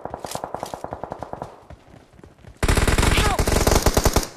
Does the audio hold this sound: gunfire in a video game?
yes